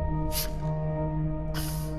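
A spray can in the video game DmC: Devil May Cry lets out two short hissing bursts, one brief and one longer, over a steady tonal music bed.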